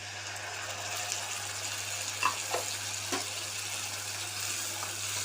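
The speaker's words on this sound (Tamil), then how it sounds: "இப்போ அரைச்ச தக்காளியை சேர்த்துக்கலாம்." Ground tomato is added to frying onions for masala dosai, giving a steady soft sizzle with a few brief stirring clinks and scrapes of a spoon in the pan; no talking.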